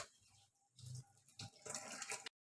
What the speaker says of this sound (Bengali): আলুগুলো ধুয়ে নিয়ে আগে ঝটপট